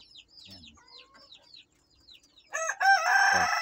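Native heritage rooster, a heavy bird of about two kilos, crowing loudly up close in a single long crow, preceded by faint chirping of other birds and a few soft clucks.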